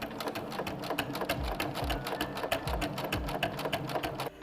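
A sewing machine stitches a fabric panel at medium speed and medium stitch length, giving a steady rapid mechanical chatter with regular needle clicks and a low motor hum, close and alone.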